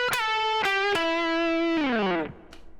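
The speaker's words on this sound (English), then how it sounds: "you play that note again, and then you do a really fast released bend" An electric guitar played through distortion and effects runs a rock lick: several picked notes, a sustained bend, then a quick released bend sliding down, ending in a brief fade with a faint pick click, loud and close.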